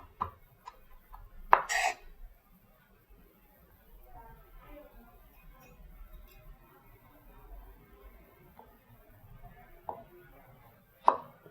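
Rough knife chopping for dry-fried green beans: a few sharp, scattered cuts on a board, one loud burst early and another at the end, with quiet kitchen background between.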